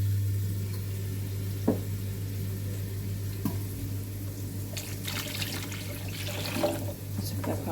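Water runs and splashes faintly into a basin where wooden spoons soak, with a steady low hum beneath and a few soft knocks and clinks, no talk.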